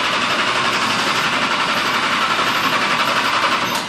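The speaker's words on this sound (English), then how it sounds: "So let me give it a little prime here." An electric fuel pump primes on an Arce fuel-injected modified engine, giving a loud, steady, close-up high-pitched whir that runs evenly for a few seconds before dropping off at the end.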